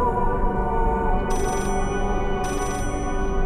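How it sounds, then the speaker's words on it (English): A telephone rings in the horror video game Layers of Fear, two short bright trills about a second apart over a low droning game ambience, with no talking. "the phone keeps ringing"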